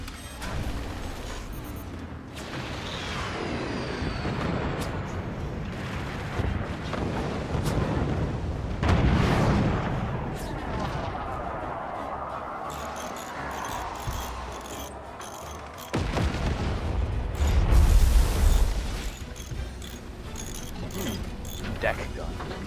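Deck gun firing in the video game Forts, heavy booming blasts and mechanical clatter amid layered game battle noise, loud and continuous with a strong burst near the end.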